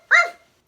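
Rags, a small cuddly dog, gives a single sharp bark, close and loud, then silence.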